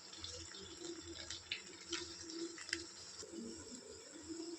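Water is poured from a pot into rice for chicken biryani, a soft continuous splashing with small drips and bumps, faint and close with no talking.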